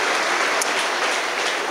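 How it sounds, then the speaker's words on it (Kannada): Audience at a college cultural festival applauding, steady dense clapping from a large hall crowd that holds at an even level throughout without talk. "ಮೊಬೈಲ್ಗೆ ಬುದ್ಧಿವಂತರು ಅಂದಿದ್ದಕ್ಕೆ ಚಪ್ಪಾಳೆ ಹೊಡೆದ್ರಿ ನೀವು"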